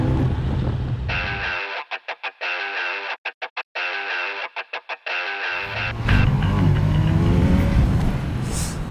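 Kawasaki Z900 SE motorcycle engine revs and accelerates, loud and close, its roar broken by sharp cuts and gaps before building into a sustained, rising engine note.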